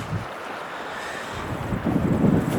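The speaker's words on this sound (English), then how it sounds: "Lovely day though, it's pity with the wind." Steady wind rushes across a high country lake, a continuous low buffeting roar against the microphone that swells slightly toward the end, with no voices.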